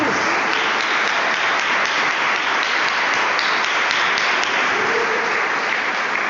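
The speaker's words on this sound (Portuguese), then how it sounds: "Vamos aplaudir ao Senhor nessa noite, em nome de Jesus." A church congregation at an evangelical service applauds for several seconds, a steady, dense wash of clapping with no talking over it.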